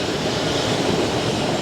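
A special edition tram passing on a city street in Milan, a steady loud rumbling rush of wheels and motor that fills the short moment without letup.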